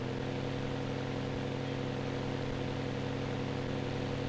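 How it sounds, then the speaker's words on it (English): Farm vehicle engine in the Cattle and Crops farming game, a steady droning hum straining while climbing back uphill, constant and unbroken throughout. "Nice to hear that engine roar."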